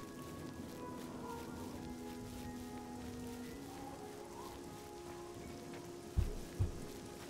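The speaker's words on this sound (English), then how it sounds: "It's starting to rain." Steady, soft rain falls in the fantasy video game Oblivion, a faint continuous patter with a low ambient hum beneath, followed near the end by two short dull thumps.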